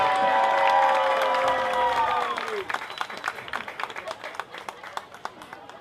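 A high school football crowd jeers with a Bronx cheer, a loud drawn-out raspberry that fades after a couple of seconds into scattered clapping and crowd noise at a stadium.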